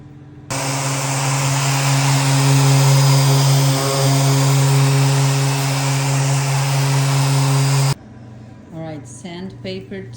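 Loud, continuous abrasive whirring of a powered sander on a solid maple dining table for several seconds, stopping abruptly, followed by a person speaking.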